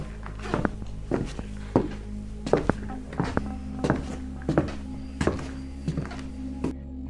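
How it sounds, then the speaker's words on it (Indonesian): Heavy, hollow footsteps thud at an irregular walking pace on an indoor floor in a boarding house, roughly a dozen dull knocks over a low continuous hum, growing slightly louder toward the middle. "Suara langkah kaki itu kembali mendekat."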